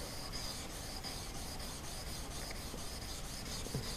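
A knife blade slides forward and backward on an abrasive surface, producing a continuous rhythmic rasping scrape, soft but close, with no voices.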